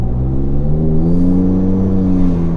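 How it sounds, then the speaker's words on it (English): Ford F150 engine revving after a sport-mode downshift, a steady, close mid-pitched drone that holds high RPM and rises slightly, heard from inside the cab without talking. "it drops down a gear, holds the RPMs a little bit longer"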